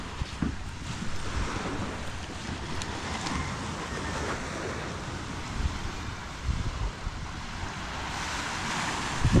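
Rough sea waves surge and wash near the shore where crabs are caught, a loud, constant roar mixed with wind buffeting the microphone, with surges swelling near the end and no talk.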